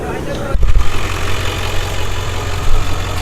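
A Ford Mustang engine fires up and settles into a rough, rumbling idle, loud and close, with a low steady throb and a brief uneven surge near the start and again toward the end.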